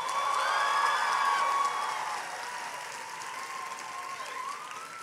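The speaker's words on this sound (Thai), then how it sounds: "ขอเสียงปรบมือให้กับการปฏิรูปกองทัพด้วยครับ" A political rally crowd in Nakhon Ratchasima applauds and cheers. Steady clapping and crowd noise run under sustained, wavering horn-like tones that are loudest at first and ease off slightly.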